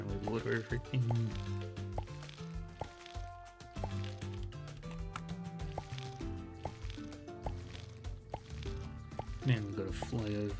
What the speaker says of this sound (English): Now we water everything.